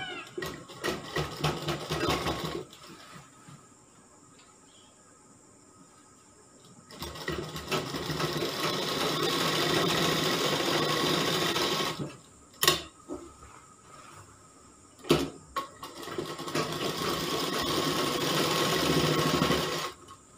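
Electric sewing machine stitching fabric for a kali gown, running in two long steady whirring stretches separated by a quiet pause and a couple of short clicks, close and moderately loud.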